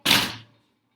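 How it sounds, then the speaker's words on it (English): A door slams once in a workshop, giving a sharp, loud, close impact that decays within about half a second into silence. "excuse the door slamming"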